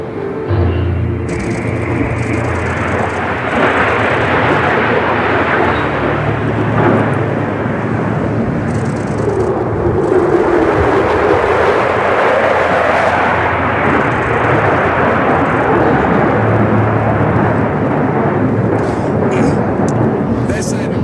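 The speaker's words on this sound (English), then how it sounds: "Straight up to heaven with the F-22." An F-22 Raptor fighter jet climbs steeply at an airshow, a loud, sustained roaring jet blast that swells and sweeps past, with a commentator talking over it.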